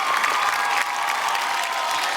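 Studio audience at a Marathi TV game show breaks into steady, dense applause for two women contestants, a continuous wash of clapping that holds at an even level throughout.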